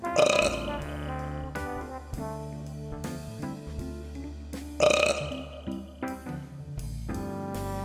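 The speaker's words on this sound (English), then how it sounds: "A belch." A loud belch erupts twice, near and clear, set among other household sound effects in a soundscape piece, with one burst at the start and a second a few seconds later.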